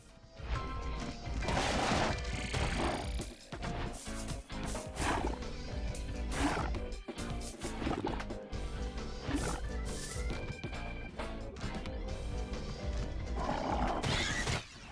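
Horse neighing and whinnying in the video game Blade Kitten, loud and continuous amid dense game music and crashing effects, with no talk.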